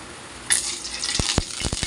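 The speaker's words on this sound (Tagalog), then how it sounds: "haluin lang natin guys ang mantika para mabilis uminit yan" Cooking oil heating in a wok-style pan while being stirred, a soft sizzle starting abruptly and running steadily, with several sharp metallic scrapes and taps of a utensil against the pan near the end.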